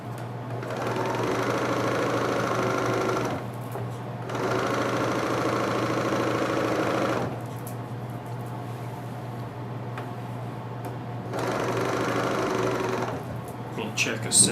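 Serger sewing machine stitching quilt fabric, running in three long loud bursts of rapid whirring with quieter pauses between them, close by over a constant low hum.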